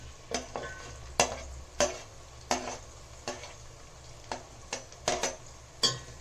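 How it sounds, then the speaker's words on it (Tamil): Chopped vegetables sizzle steadily in a pan while a utensil stirs and scrapes at irregular intervals, close and clear. "எல்லா வெஜிடபிளையும் ஆட் பண்ணியாச்சு. நல்லா வதக்கிக்கலாம்."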